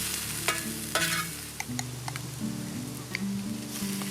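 Onion fries to a golden crust in a pan outdoors by a village pond. A soft, steady sizzle runs throughout, with a few light taps and clicks from stirring.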